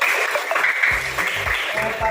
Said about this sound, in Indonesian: Terima kasih, tepuk tangan untuk semuanya.